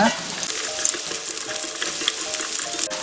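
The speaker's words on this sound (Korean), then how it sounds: "불은 센 불 중불에서 조절하시면서 마늘향을 내주세요." Garlic sizzles and crackles steadily in about three spoonfuls of cooking oil over medium-high heat, a dense, close frying hiss with faint stirring scrapes and no voices.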